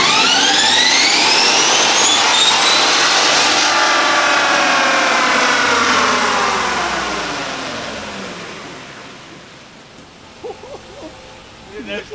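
Loud all-terrain tires whine on a Chevrolet Silverado spinning on a dyno at about 80 mph, the tone falling steadily as the truck slows down and fades to near quiet, with faint voices at the end.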